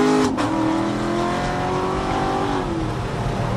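A car engine revs hard and steady up through the gears, loud and close, with a tonal pitch that climbs, dips at a shift and climbs again.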